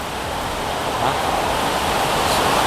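Torrential downpour hammering down in a dense, unbroken wash of noise, loud and close throughout, with no distinct voices standing out.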